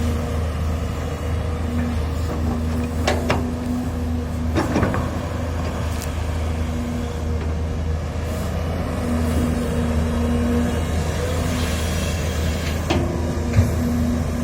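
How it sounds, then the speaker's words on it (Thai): Steady diesel drone of a JCB JS205SC tracked excavator spreading soil, a low continuous engine rumble with a faint whine and a few light clanks, heard fairly close and alone. "มาดู JCB JS 205 SC ครับ รถขุด"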